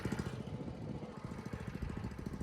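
A rototiller engine runs with a steady, rough, chugging putter, close by and fairly loud, with no one talking.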